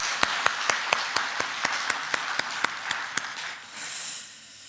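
A church congregation claps for the Wednesday evening worship team, a steady rhythm of sharp, evenly spaced claps over a bright wash of crowd applause that fades after about three seconds.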